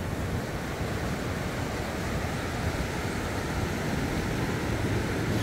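Waves roll onto the beach at Meia Praia, Itapema, in a steady broadband wash of surf with some wind noise over the microphone, continuous and fairly loud throughout.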